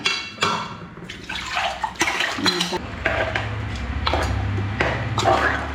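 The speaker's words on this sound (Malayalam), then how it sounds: "അപ്പം ഈ അരപ്പ് നമ്മളെ മീനിലേക്ക് ഒഴിച്ചു കൊടുക്കാം" Ground masala paste is poured and scraped from a container into a vaala fish curry, with sharp clinks of metal utensils, wet sloshing and a soft pouring rush, close by and uneven in rhythm.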